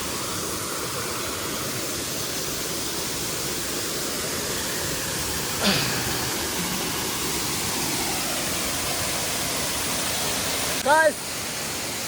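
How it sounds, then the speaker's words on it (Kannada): Gandhi Falls, a waterfall near Bhatkal in Uttara Kannada, Karnataka, gives a steady, loud broadband rush of falling water that fills the whole stretch, with a brief voice near the end. "ಇದಕ್ಕೆ ಗಾಂಧಿ ಫಾಲ್ಸ್ ಅಂತ ಹೇಳ್ತಾರೆ"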